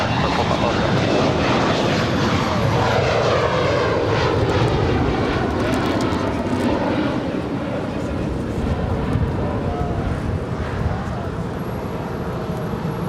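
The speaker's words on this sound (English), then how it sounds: "This is Hawaiian Airlines Flight 10 coming in from Honolulu. It's an A330-200." A Hawaiian Airlines Airbus A330-200 lands at LAX, its loud sustained jet roar filling the scene with sweeping engine tones as it passes close, a voice briefly audible beneath.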